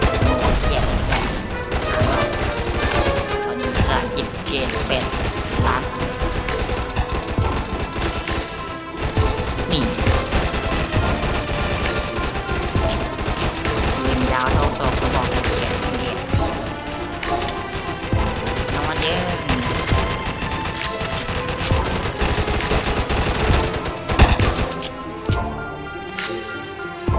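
Gunfire in the Roblox game Zombie Uprising, with dense, continuous bursts of rapid shots and impacts rattling steadily for nearly half a minute, loud and close, with occasional voices mixed in.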